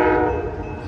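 An Amtrak Coast Starlight passenger train's horn sounds a loud, sustained chord over the low rumble of the train arriving at Oakland Jack London Square, California, lasting under a second.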